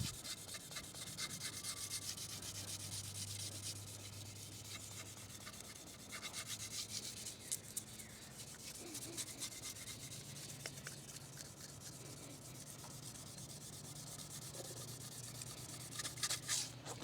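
Wet-or-dry sandpaper rubs steadily over a Nylon 66 rifle stock in a continuous quiet scratching hiss, with faint changes in pressure and a low hum underneath.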